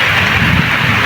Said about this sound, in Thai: บรรยากาศตอนฝนตกกะสิประมาณนี้เนาะ